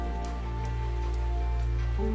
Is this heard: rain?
yes